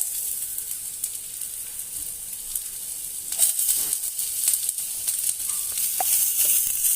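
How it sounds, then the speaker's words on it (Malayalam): Small onions (shallots) sautéing in a pan for a Kerala-style sardine chilli curry, with a steady, close sizzle and occasional stirring scrapes and clicks growing slightly busier toward the end, with no voices. "കൊച്ചുള്ളിയും നന്നായി ഒന്ന് വഴറ്റുക."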